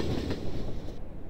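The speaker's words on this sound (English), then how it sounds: "Oh, so that's a train." A runaway train in an animated show rumbles past with a steady rolling clatter and rushing noise, fairly loud and with no voices.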